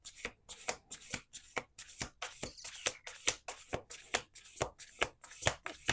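Cards being shuffled in quick repeated riffles, a crisp rhythmic flutter close to the mic, with no talking.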